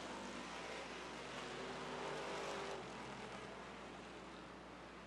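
Race cars lapping the track at Rockford Speedway during a Bahama Brackets AA feature, a dense, distant wash of engine roar that swells and fades slightly as the pack circles.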